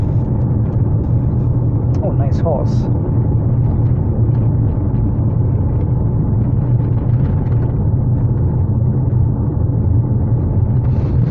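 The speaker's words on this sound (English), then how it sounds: "they put some new asphalt here on the road. It's really rough now and loud." Loud, continuous road roar from a Mitsubishi Outlander PHEV's tyres rolling over rough new asphalt, steady throughout, with a brief spoken remark partway through.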